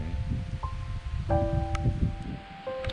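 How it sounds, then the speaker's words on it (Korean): Strong cold wind at a mountain campsite in autumn, blowing steadily as a low rushing rumble with leafy rustling. A few thin whistling tones come and go over it. "와 바람 소리가 장난 아니네."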